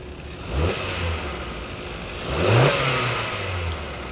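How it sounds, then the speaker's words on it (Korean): A Hyundai Avante AD, checked after a spark plug replacement, idles and then revs twice as the accelerator is pressed. Each rev is a close, moderately loud rise and fall in engine pitch over a steady idle hum, with no talking. "악셀을 밟아서 RPM도 올려보면서 한 번 더 확인합니다"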